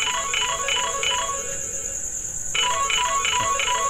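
A telephone rings in repeated electronic bursts, with a brief pause between two ringing phrases and a steady high tone underneath, close and clear with no talk.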